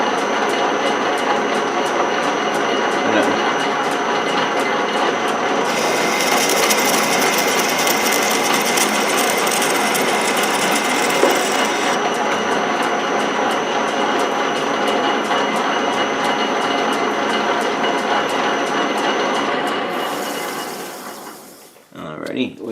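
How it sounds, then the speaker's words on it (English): A South Bend 13-inch lathe cutting 20 threads per inch runs with a steady, loud mechanical whir and gear chatter. A brighter cutting hiss joins midway, and the machine winds down at the end. "Okay, so we should be able to start threading. Let's just feed this guy in."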